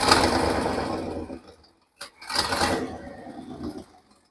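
Dump truck engine cranking dry with no oil, a rough mechanical churn that cuts out briefly, then cranks again at close range with no voices.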